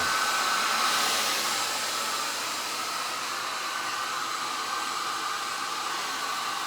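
A hair dryer blows steadily while drying hair, a constant close airy roar that eases slightly after the first couple of seconds and holds on alone with no talk.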